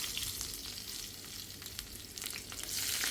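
Onion and curry leaves tempering in hot oil make a steady, close sizzle and crackle with bright spitting pops that swell louder toward the end, heard alone without talk.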